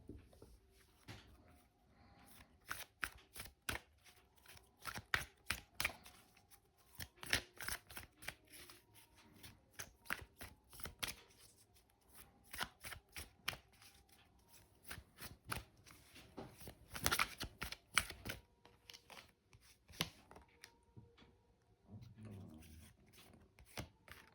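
Tarot cards are shuffled up close in a long run of rapid, crisp riffling bursts and slaps, with brief gaps between shuffles and a dog barking faintly near the end.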